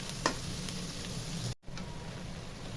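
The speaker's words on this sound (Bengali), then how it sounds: "পেঁয়াজটা বাদামি রঙের মতো করে ভেজে নিব।" Chopped onions frying in hot oil until brown for a chicken dish, a continuous close sizzle with a few light stirring scrapes, briefly cut by a short gap midway.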